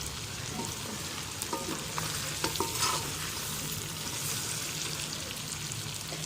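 Pork pieces fry in their own rendered fat in a pan with no added oil, giving a steady close sizzle and crackle with a few light stirring scrapes and no voices.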